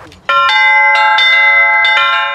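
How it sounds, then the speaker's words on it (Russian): Church belfry bells ring loudly and close, a series of bright, overlapping strikes that keep sustaining and layering over one another. "Колокольный звон пробуждал человека от сна телесного и сна духовного и призывал его к молитве,"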